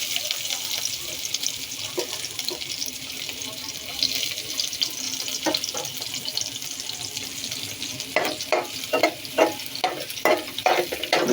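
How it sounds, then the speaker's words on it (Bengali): Pumpkin greens frying in oil with garlic in a home kitchen, with a steady soft sizzle and repeated stirring scrapes that grow more frequent toward the end. "মিষ্টি কুমড়া শাক ভাজি করতেছি, পরিমাণ মতো তেল দিচ্ছি। আমি রসুনগুলো দিয়ে দিচ্ছি।"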